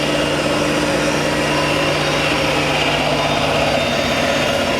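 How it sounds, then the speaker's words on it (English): Kellenberger 1000U OD grinder with a self-contained lubrication pump in the wheel head running up, giving a steady, loud machine whine and hum with a constant tone, no pauses. "Let me start the grinding wheel up for you."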